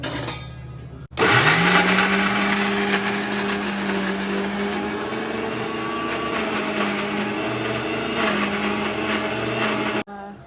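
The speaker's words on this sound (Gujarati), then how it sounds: "થોડું ધાણા જીરું બસ અને લીંબુનો રસ આપણે મિક્સ કરીને સૂકી પેસ્ટ બનાવી" A kitchen mixer grinder whirs as it blends coriander, cumin, red chili and lemon juice into a dry paste for bhajiya. It starts abruptly after a quiet moment, holds a loud, steady high-pitched whine for about nine seconds, then cuts off.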